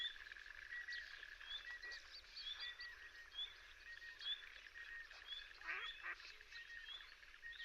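Coots calling in the Arocampo wetland of Monfragüe, repeated short, sharp honking calls from several birds at moderate distance, fairly faint over quiet background.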